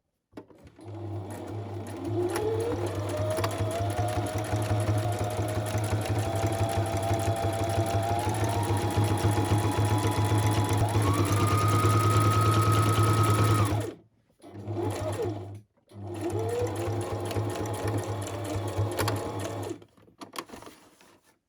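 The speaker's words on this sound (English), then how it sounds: "So let's go to the sewing machine. I think I want to attach this wavy ribbon first, and I'll just use the straight stitch for this." A sewing machine straight-stitches a wavy ribbon onto a fabric bookmark, running steadily and close for about twelve seconds, then stopping and restarting in two short bursts.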